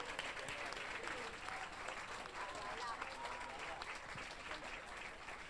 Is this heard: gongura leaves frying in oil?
no